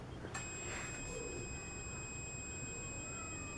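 An LG 47-inch LED TV (47LE5310) gives a single short, thin electronic beep as it is switched on, followed by a steady faint tone over quiet room hiss.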